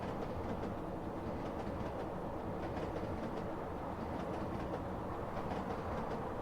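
A train in the video game Eden Crafters rolls along with a steady, continuous rumble and a faint rhythmic clickety-clack from the rails, even in loudness throughout and with no talking.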